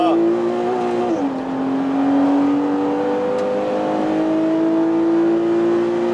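A Porsche 981 Cayman 2.7 on a race track gives a steady, loud engine drone that dips near the start, then climbs smoothly in pitch as it accelerates. Wind and road noise run underneath, with a voice faintly present.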